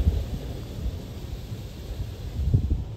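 Soapy water sprays from an automatic car wash in America, covering a car front to back; a steady, rushing wash of noise with a deep rumble underneath that swells slightly near the end.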